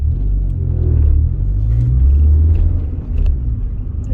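A car on a performance run pulls away through the gears, a loud low engine rumble dominating with a slight dip as a shift comes, heard from inside the cabin.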